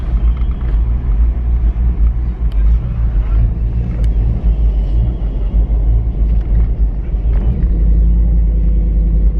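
A Polaris vehicle with 171,000 on the odometer is driven around the block. Its engine gives a steady, close, low rumble with some rattling throughout, and a faint voice can be heard.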